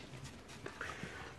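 An Airedale Terrier puppy pants softly and lets out a few faint whimpers, quiet and close, with no one speaking.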